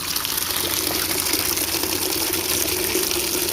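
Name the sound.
water flowing from the tap of a homemade water filter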